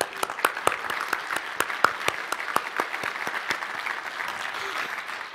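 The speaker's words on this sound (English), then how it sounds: "I think it deserves that applause" Applause at a design conference: a fairly quiet crowd clapping, with distinct sharp individual claps standing out early over a softer, scattered bed of hands.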